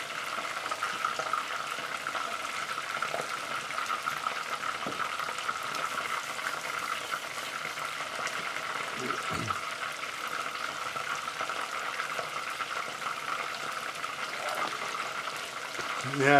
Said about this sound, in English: A lot of frying tonight.